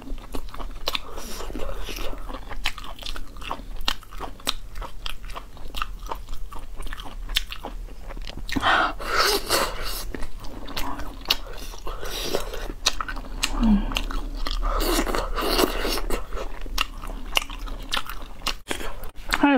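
Someone chews a crunchy, spicy duck intestine snack right at the mic, with steady crisp bites and crunches throughout and some speech in places.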